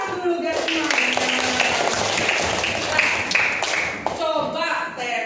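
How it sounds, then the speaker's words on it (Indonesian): Schoolchildren in a second-grade classroom clap their hands together, a dense burst of loud, close applause that runs for several seconds and breaks off briefly near the end, with voices mixed in. "Tepuk tangan dulu guys semuanya."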